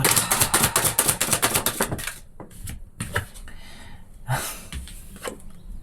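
Tarot cards being shuffled and drawn: a fast riffle of crisp card flutters for about two seconds, then scattered soft slaps and slides as cards are laid down, close up.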